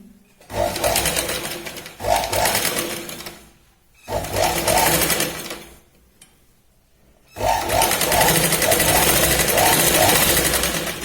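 A sewing machine runs in several bursts of rapid, even stitching while a katori blouse is sewn with double stitching, separated by short pauses of near silence.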